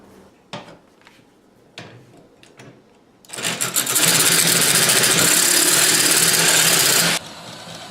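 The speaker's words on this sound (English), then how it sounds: "I also got a jigsaw here. This way I can take and cut any notch out that I need to" A jigsaw cuts a notch in Lexan polycarbonate body plastic for an E-Revo 2.0 RC truck: a few sharp knocks and clicks, then a loud, steady buzzing saw run of about four seconds that stops abruptly.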